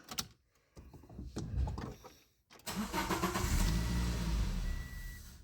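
Car engine starting, a first cranking attempt that sputters and dies, then a second crank catching into a steady, loud idle that keeps running near.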